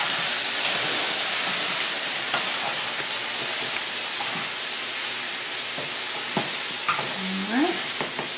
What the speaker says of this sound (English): So then you saute these up a little bit for a little bit longer until your vegetables thaw out.